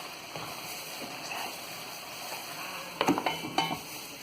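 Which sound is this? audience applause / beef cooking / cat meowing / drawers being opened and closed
beef cooking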